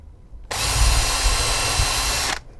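A power drill drives a screw into model railway track: one sustained, loud whirring burst of about two seconds that starts and stops abruptly, with no talk.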